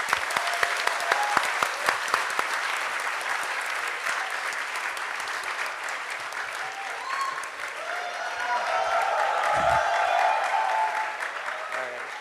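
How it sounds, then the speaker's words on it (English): A closing-ceremony audience applauds workshop students and volunteers with sustained clapping that swells toward the end; a few sharp louder claps stand out at the start. "Can we give a round of applause for all of them"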